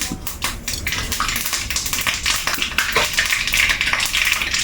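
Mustard seeds popping in hot oil for a Kerala vegetable curry, a dense run of sharp crackling pops and spits that keeps going evenly, close and fairly loud.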